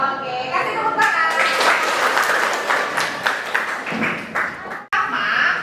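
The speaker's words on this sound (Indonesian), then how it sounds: "Oke, kasih tepuk tangan." Classroom of students clapping together during a teaching-practice lesson, a dense burst of hand claps lasting several seconds before cutting off abruptly, with a voice speaking over it.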